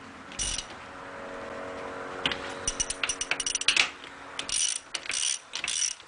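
Bolts being tightened a little at a time on the crown wheel of a Toyota front differential during an air locker install; rapid clicking ratchet bursts in short, irregular runs against a quiet workshop hum.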